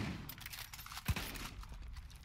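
A Far Cry 5 co-op match carries a rapid burst of gunfire under noisy game ambience, with one louder, closer shot standing out in the middle.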